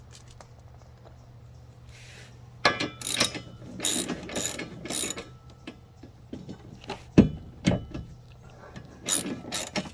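A hand ratchet snugs up bolts while a trailer hitch goes onto a 2006 to 2018 Toyota RAV4, giving close, loud bursts of rapid clicking in several runs with short pauses between them and a low steady hum underneath, no speech.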